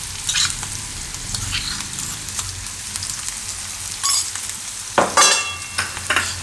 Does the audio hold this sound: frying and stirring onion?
yes